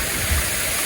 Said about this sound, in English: the waterfall is so beautiful